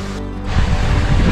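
Water rushes into the pool below Bhorambi waterfall, a steady broadband roar that swells louder midway through and holds on close to the listener, with no talking.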